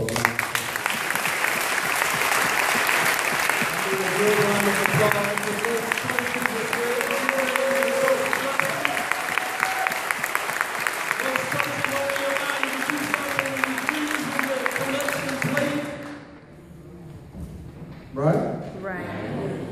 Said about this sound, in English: How about you give this church a round of applause for that?